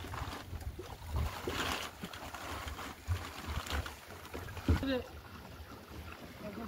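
Boat on a river, water sloshing and lapping against the hull with bumps and knocks, under intermittent nearby talk.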